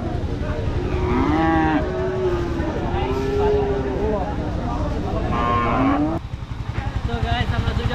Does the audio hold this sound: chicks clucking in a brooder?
no